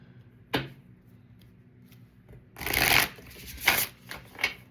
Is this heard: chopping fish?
no